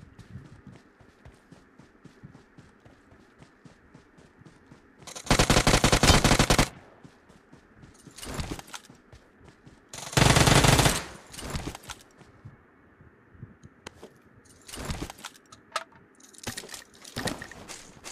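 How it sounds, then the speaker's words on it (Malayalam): Gunfire in a shooting video game crackles in several sharp bursts of automatic fire, two long volleys and a few shorter ones, spaced between quieter stretches of footsteps and faint game background noise. "ഇവിടെയൊക്കെ വെടി സൗണ്ട് കേൾക്കും നമുക്ക് അങ്ങോട്ട്."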